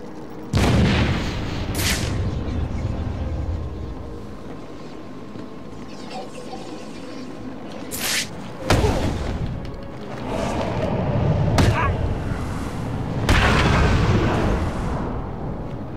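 Grenade blasts in the Batman: Arkham City video game, several loud booming bursts spread across the stretch with rumbling between them and no speech.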